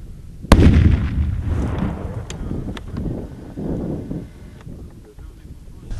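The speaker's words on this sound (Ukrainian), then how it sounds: "Отрабатываются разные способы подрывов." A single sharp training demolition blast goes off at an explosives range, a sudden loud boom followed by a long rumbling decay, with wind noise on the microphone.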